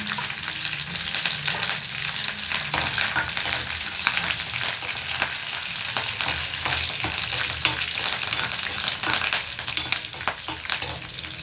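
Garlic, curry leaves and dried red chillies sizzle in a little hot oil as tempering for a roasted-gram chutney. A steady, close crackle runs throughout, broken by sharp pops and spits, with no voices.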